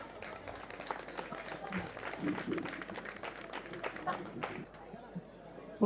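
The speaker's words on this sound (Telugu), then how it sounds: "చప్పట్లు ప్లీజ్." Crowd applause at a community gathering honouring an inter-caste marriage, scattered clapping that swells and fades over several seconds amid murmured chatter.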